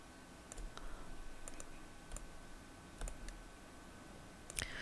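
A computer mouse clicks at an irregular pace, about a dozen sharp, close clicks, some in quick pairs, over a quiet room hum with no talking.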